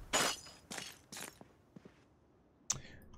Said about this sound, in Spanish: Quitamos cristales rotos